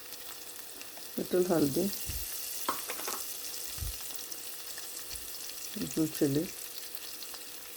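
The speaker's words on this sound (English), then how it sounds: "Adding curry leaves, saute," Lady's finger sautés with curry leaves and spices in a pan, giving a soft, quiet sizzle with occasional stirring clatter, partly covered by someone speaking twice.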